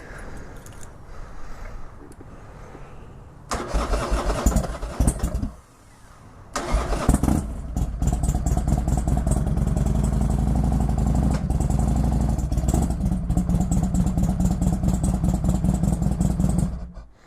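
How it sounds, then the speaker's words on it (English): Motorcycle engine cranks over and fires up on its first ride after a build, not yet tuned, with a couple of starter attempts before catching and settling into a steady, close, loud idle. "gonna take this bike out for the maiden run."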